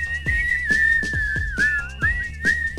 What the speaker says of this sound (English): now it's whistling.